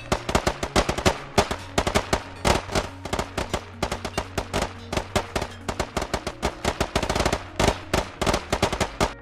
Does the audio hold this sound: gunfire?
yes